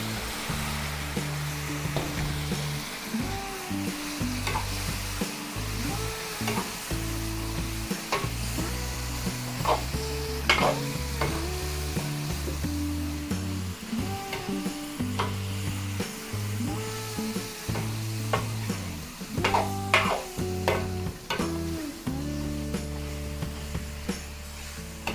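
Marinated meat for Filipino apritada is stirred in a hot pan, sizzling steadily throughout with repeated scraping and clinking of the spoon against the pan, fairly loud and close, with no talking.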